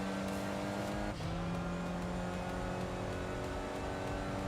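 Subaru Impreza engine in the racing game Enthusia Professional Racing, a loud, steady engine drone holding a high note, with a quick dip and shift in pitch like a gear change partway through.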